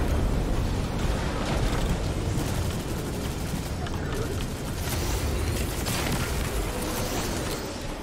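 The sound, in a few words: rocket explosions in Destiny 2 video game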